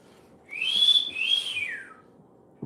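A person whistles two clear rising-and-falling notes, the second gliding downward, close and fairly soft, followed by a brief thump.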